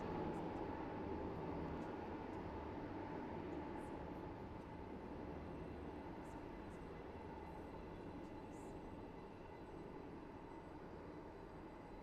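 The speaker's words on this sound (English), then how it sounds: "The train now approaching Platform 2 terminates here." A Southern-region commuter train rolls into a station platform at Benton, a steady low rumble and rail hum that eases slightly as it slows, with faint squeals overhead and no talk.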